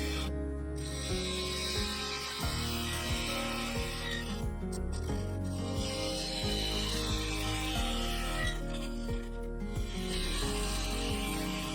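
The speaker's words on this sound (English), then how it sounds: "I used a 3/8 bowl gouge to form the cutout" A 3/8 bowl gouge cuts into a spinning sapele wood vase on a lathe, giving a continuous scraping, rasping hum with a rhythmic ticking pulse and brief lighter passes as the tool shifts, close and steady without talk.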